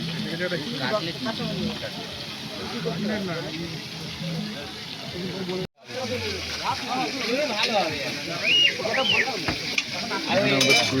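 Squid curry sizzling steadily in a hot pan while a spoon scrapes and stirs it through, close and continuous with one brief break, voices chattering faintly underneath.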